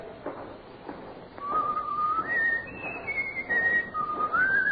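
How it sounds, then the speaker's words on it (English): A man whistles a wandering tune in a radio drama, the melody rising and falling in sustained notes over a faint background, with no talking. "Hear the stranger whistling"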